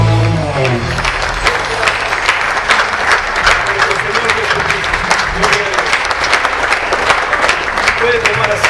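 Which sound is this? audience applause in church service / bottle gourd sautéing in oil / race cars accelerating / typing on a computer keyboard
audience applause in church service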